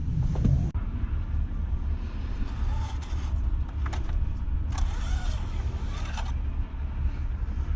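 Diesel engine of a 2018 Ford F-350 Lariat dually pickup shutting down: a short knock at the start, then a low steady rumble with faint mechanical clicks and whirs, heard up close with no talking.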